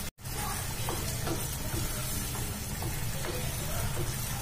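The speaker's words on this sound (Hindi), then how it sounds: "अब हम इसमें ये हमने जो टमाटर का पेस्ट बनाया था वो डाल देंगे और इसको भी अच्छे से पकाएंगे" Steady sizzling of tomato paste with ginger-garlic paste frying in a pan, a continuous crackling hiss with occasional stirring sounds.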